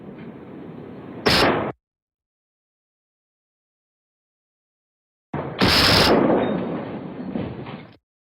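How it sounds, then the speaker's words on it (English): A 10mm Glock fires during a police standoff, heard as loud, harsh, distorted blasts in two bursts separated by a few seconds of dead silence. "Shots fired! Officer needs help. Shots fired!"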